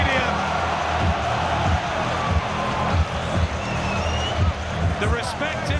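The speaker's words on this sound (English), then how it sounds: "listen to the crowd loving this heavyweight spectacle here at Wembley Stadium." A boxing crowd at Wembley Stadium roars during a heavyweight fight, a dense, continuous wash of cheering under a commentator's talk.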